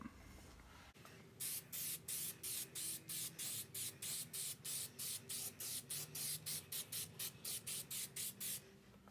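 Short rhythmic bursts of a spray gun lay a second coat of paint on a rusted fender from a 1965 Austin-Healey 3000, about twenty even passes, close and steady with no talking.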